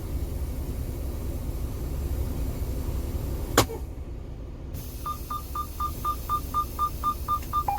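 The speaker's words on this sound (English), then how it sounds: "I'm gonna release my tractor protection valve." A truck's tractor protection valve is released in the cab with one sharp, loud burst of air. A short hush follows, then a steady series of electronic beeps against a low idling background.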